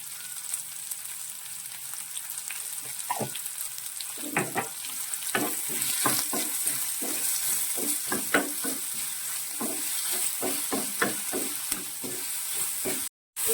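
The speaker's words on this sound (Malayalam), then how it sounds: "സവാളയും ഇത് നന്നായിട്ടൊന്ന് വഴട്ടെ അപ്പോൾ നമുക്ക് അല്പം ഉപ്പും കൂടി കൂട്ടത്തിൽ നമുക്കൊന്ന് ചേർത്ത് കൊടുക്കാം" Sliced onions sauté with salt in a pan for a curry, giving a bright, steady sizzle beneath repeated scraping stirs that come in an irregular rhythm, close and fairly loud, with no one speaking.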